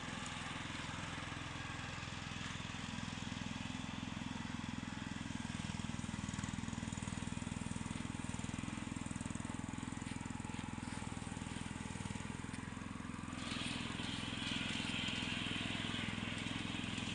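A ride-on lawn mower is test driven, its engine a low, steady, fairly faint drone that runs unbroken throughout with a slight change in tone near the end.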